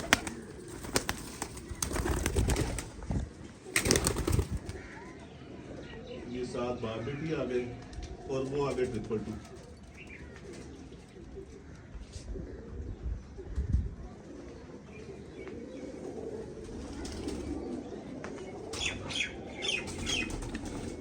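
Pigeons of a nine-year-old Teddy line of high-flying kabootar stock coo and flap their wings near a voice, with several sharp bursts of wing claps early on and soft cooing running under steady talk.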